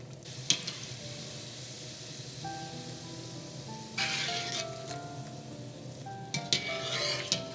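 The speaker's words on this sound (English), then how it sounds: "And now let's fry up some of our shells" Kulkul shells frying in hot oil, a continuous close crackling sizzle with bursts of louder spattering and a few sharp clinks of utensils, no voices.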